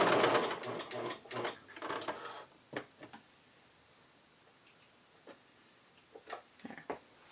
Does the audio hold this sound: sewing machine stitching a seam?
yes